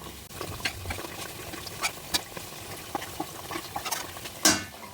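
Wheat flour biscuits being flipped and stirred in a pan, giving sparse light scrapes and soft clicks of a utensil against the metal, ending with one sharper clatter; no voices.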